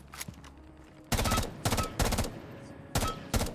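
Automatic gunfire from a video game with heavy recoil, rattling out in several loud, rapid bursts separated by short pauses.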